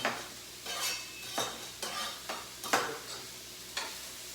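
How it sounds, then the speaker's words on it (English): Minced garlic is stirred into sizzling, softening onions in a pan for chicken enchiladas, a soft background sizzle broken by about eight distinct scraping strokes at an unhurried rhythm. "Stir that garlic into the onions"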